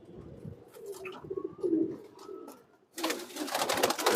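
Soft, low pigeon coos repeat close by, followed by a burst of rustling and wing flapping as a female pigeon is caught.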